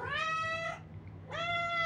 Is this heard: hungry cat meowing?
yes